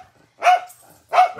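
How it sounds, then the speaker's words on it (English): Dogs bark indoors, two sharp barks about three-quarters of a second apart, clear and moderately loud against a quiet background. "The dogs are barking."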